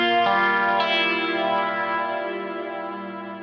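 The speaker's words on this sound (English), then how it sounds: "I have, as you can hear, very kind of ambient reverb there. I believe that's a hall reverb." An electric guitar with compressor and ambient hall reverb plays a song intro: a sustained chord rings out, a second note joins, and the wash slowly decays alone.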